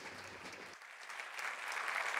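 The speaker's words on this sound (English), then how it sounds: "we can start by warmly applauding everybody here" An audience at a hackathon event applauding, steady clapping that starts moderate and swells slightly louder, heard at a distance without voices.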